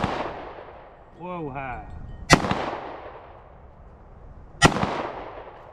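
Two sharp handgun shots at an 80-yard target ring out a couple of seconds apart, loud and close with a short echo trailing each, while a voice exclaims briefly before the first.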